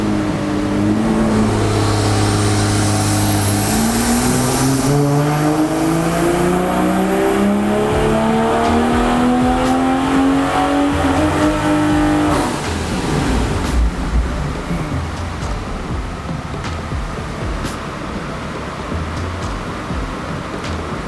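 A BMW G20 M340i on a dyno, its engine revving loud and close in one long sweep that rises steadily in pitch through the gears, then drops away into a rumbling coast-down.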